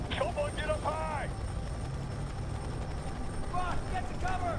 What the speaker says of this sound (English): A helicopter will likely be the only way to escape.